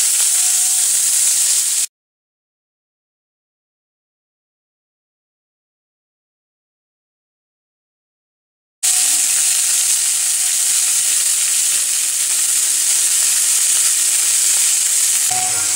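Fenugreek leaves fry with cumin in a small amount of oil, a loud, close, hissing sizzle that cuts out for several seconds before resuming steadily, with no talking.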